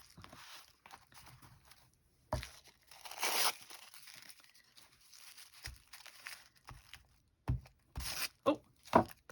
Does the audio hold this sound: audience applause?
no